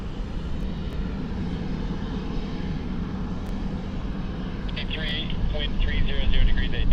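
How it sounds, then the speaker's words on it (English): A jet airliner takes off at Sydney Airport, a broad, steady engine roar that swells slightly toward the end, with occasional radio-style voices over it. "Got up just early enough to see the full takeoff."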